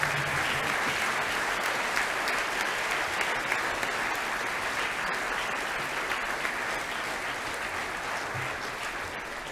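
A large audience at a school awards assembly applauds steadily, a dense, even wash of clapping that holds at full strength throughout and eases only slightly toward the end.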